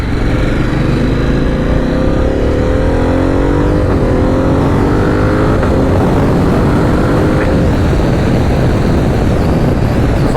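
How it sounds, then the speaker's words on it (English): A Harley-Davidson Pan America CVO motorcycle pulls hard, its engine note climbing through rising sweeps under loud, constant wind roar from riding at speed. "Good little pull on the bike, I guess."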